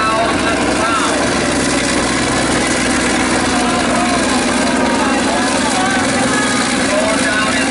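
A 300 horsepower Caterpillar dozer weighing 80,000 pounds pulls at an outdoor tractor pull, its diesel engine droning in a steady, dense, continuous roar throughout, with crowd and announcer noise mixed in.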